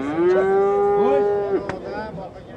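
A cow gives a long, loud, sustained moo close by at a livestock market, followed by shorter calls from other cattle and a general background murmur of the busy market.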